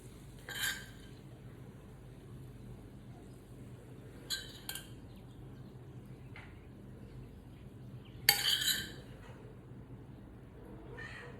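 Spoons scooping food into dishes while cooking at home, a few faint, brief scraping clinks of metal on crockery spaced apart over quiet room background.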